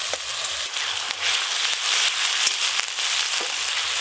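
Ground mustard, cumin and dried chili paste with onion paste sizzling and spluttering in hot oil for a Bengali fish curry, a steady close crackle with occasional stirring scrapes.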